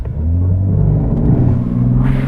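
A 2021 Mercedes AMG GLC 43 engine revs hard from a standstill with the brake held, giving a loud, close, deep rumbling roar that holds steady and swells near the end, with no talking.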